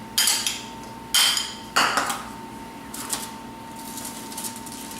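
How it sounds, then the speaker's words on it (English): Black-eyed peas tumble into pasta, giving three sharp clattering bursts in quick succession, then a few fainter rattles as the last peas settle, all close and with no one speaking. "add about a cup or so of the black-eyed peas"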